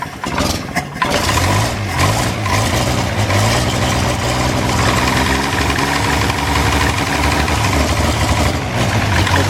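A pre-war Wolseley 14/56 car engine catches after a brief crank and settles into a loud, close, uneven idle with a rhythmic low knock that stays steady.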